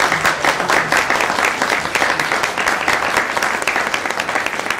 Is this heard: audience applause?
yes